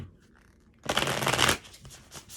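Tarot cards are shuffled in a brief, dense riffling burst of close paper flutter after a quiet pause, then fade into soft handling sounds.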